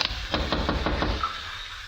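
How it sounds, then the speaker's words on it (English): Knuckles rap on a wooden front door in a quick series of about six sharp knocks, close and clear, followed by a short pause with faint background hum. "I ran up the walk, rapped on the door."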